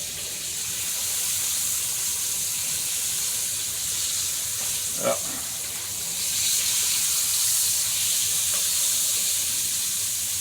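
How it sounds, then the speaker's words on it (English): Fish frying in hot oil outdoors gives a steady loud sizzling hiss throughout, with a brief clatter midway and a single short spoken word. "Frying some fish, y'all"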